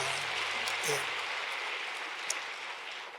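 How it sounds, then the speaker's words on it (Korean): A church congregation claps steadily at a New Year's Eve watch-night service, a dense wash of applause that stays even throughout, with a brief voice near the start. "하나님께 큰 영광의 박수 올리겠습니다."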